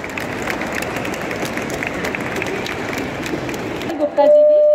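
A crowd at a cancer awareness program held by American Oncology Institute gives sustained, dense applause that fills the room, then stops abruptly as a voice comes over the speakers.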